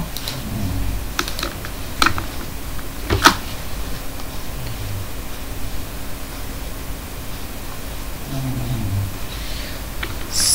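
Someone types on a computer keyboard while entering customer details into an electricity bill spreadsheet. Scattered key taps and a few sharper strokes sound close and fairly quiet over a steady background hiss, with no talking.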